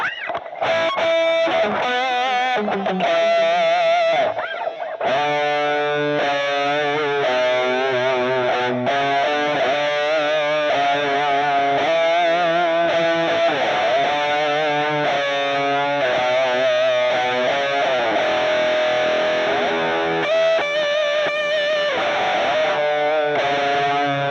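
A heavily distorted electric guitar with built-in distortion plays a sustained, buzzing melody with bends and chords, loud and continuous throughout.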